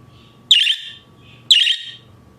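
An English budgie gives two bright, clear chirps about a second apart, close and fairly loud over a faint low background hum.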